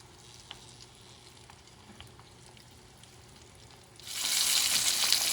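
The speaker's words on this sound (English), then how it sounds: "So you're frying this baby." Pompano fish frying in a pan, with a faint low crackle at first, then a loud, close sizzle that surges up near the end and stays steady, with no talk.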